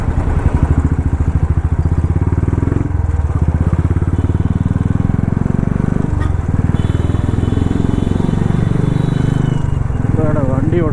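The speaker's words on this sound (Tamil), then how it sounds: "புல்லட்டில் 60 போகிறதே 80 போகிற மாதிரி தெரியுது." A Royal Enfield Bullet motorcycle rides along a road with a loud, close, rhythmic engine thump and rushing wind throughout, and a voice speaks at times.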